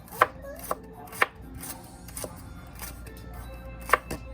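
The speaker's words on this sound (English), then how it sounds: "just cut it with a knife very thin" A knife slices bitter lemon very thin on a cutting board, sharp crisp chops landing in an irregular rhythm, close and distinct, roughly eight strikes with brief pauses between them.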